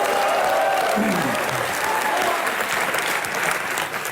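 Studio audience on a Hindi TV comedy show gives loud, sustained applause for guest Rajat Sharma, a dense wash of many hands clapping steadily throughout, with a faint voice briefly audible beneath.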